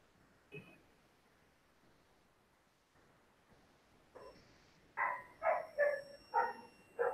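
A dog barks indoors, five sharp barks in a fairly quick rhythm near the end, each fairly loud and close, after a stretch of near quiet with a faint thump.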